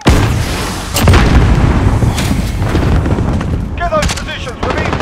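Heavy booming blasts and gunfire in Call of Duty Modern Warfare, including a grenade explosion, sound loud and close over a dense battle din, with shouted voice callouts mixed in.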